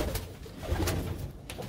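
A pigeon coos in short soft bursts close by, a low throaty murmur broken by a few brief clicks or flaps.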